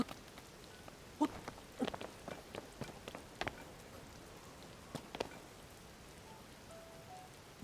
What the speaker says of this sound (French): S'il te plaît. Arrête la pluie.